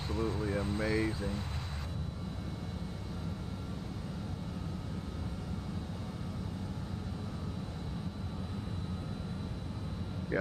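Steady cabin drone from the engines of a Just Flight RJ airliner in Microsoft Flight Simulator 2020, a dense low roar filling the whole stretch after a brief voice at the start.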